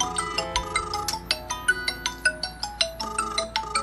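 Mobile phone ringtone triggered by a call from a SIM800L module on an Arduino, a bright repeating melody of short, clear notes that plays alone throughout.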